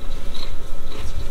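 Close, loud crunching of habanero spicy popcorn being chewed, a rapid dense series of crisp bites.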